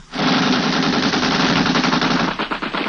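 Machine gun fire as a radio drama sound effect, a loud, rapid, sustained burst of shots rattling nearly three seconds, close and alone.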